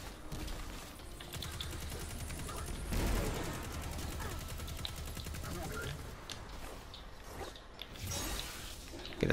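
Turret gunfire in Destiny 2: rapid, dense bursts of shots crackle nearly continuously, with louder impacts around three seconds, under intermittent shouted talk.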